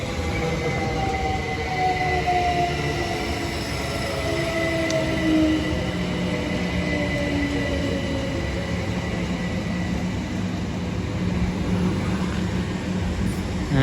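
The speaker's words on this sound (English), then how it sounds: "We have another 387 working a Great Western Railway service from London Paddington to Didcot Parkway" A British Rail Class 387 electric train on a Great Western Railway service rolls past at Pangbourne with a loud, sustained rumble and a whine whose pitch slowly falls.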